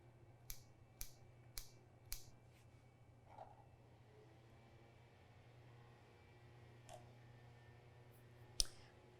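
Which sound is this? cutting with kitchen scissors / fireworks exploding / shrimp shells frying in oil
cutting with kitchen scissors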